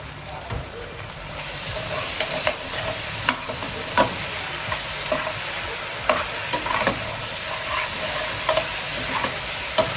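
Red onions sautéing in a pan for a traditional Spanish tortilla, a steady sizzle with soft clinks and scrapes of a spoon stirring at irregular intervals, close and continuous with no talk over it.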